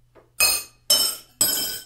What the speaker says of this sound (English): I put down the bowls onto the sideboard here. And as soon as I put the spoons in them,